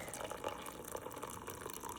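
Coffee is poured at home into a cup with cream, a faint, continuous liquid trickle with light splashy flickers throughout, quiet and unaccompanied by speech.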